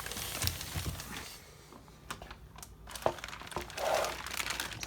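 A Mishimoto aluminum radiator for a turbocharged 1994 Honda Accord is drawn out of its plastic packaging, with close, bursty crinkling and rustling of the wrapping that rises and falls over several seconds.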